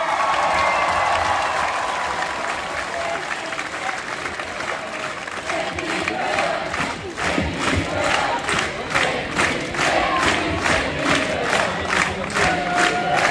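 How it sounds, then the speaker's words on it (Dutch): A crowd at a TeamNL homecoming celebration for athletes applauds and cheers, with loud, sustained clapping that builds into rhythmic, dense bursts of cheering through the second half. "geef nog één keer een geweldig applaus"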